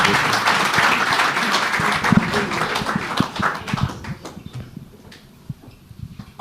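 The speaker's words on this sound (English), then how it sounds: "Please give a hand for John." Audience applause from a crowd at a live show, a dense wash of clapping that fades after about four seconds into scattered claps and taps.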